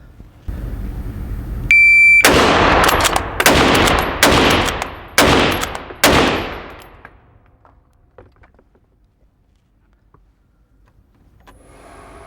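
Five sharp, loud shots from a P14 bolt-action rifle, spaced roughly a second apart with pauses for cycling the bolt, each crack ringing out. A faint beep comes before the first shot, and a quiet stretch follows the last.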